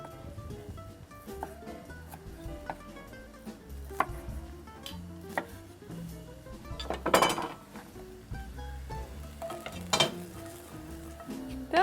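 Onions and beans stew in a pan while a utensil scrapes and stirs, giving soft sizzling under irregular clinks and knocks against the pan, with a few louder scrapes.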